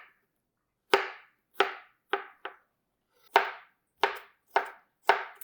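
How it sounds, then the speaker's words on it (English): Knife smashing and mincing garlic on a cutting board: eight sharp, close chops in an uneven rhythm, each a crisp thwack with a short tail, with no talk. "I'm just going to put my knife over my garlic, and I'm just going to smash it down. And then I'm going to start just cutting"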